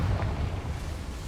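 A Confringo blast spell goes off in Hogwarts Legacy, a single loud, low, rumbling burst that fills the whole moment and fades slowly, with no talking.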